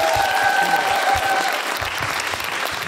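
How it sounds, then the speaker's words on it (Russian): A room full of people claps steadily, a dense burst of applause that eases slightly toward the end. "Аплодисменты"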